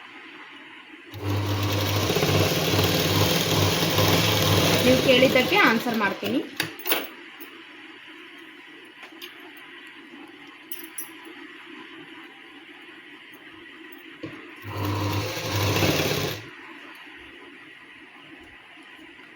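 A sewing machine runs in a long steady burst while a katori blouse is stitched, stops, then makes a second short run. Speech can be heard faintly in the background.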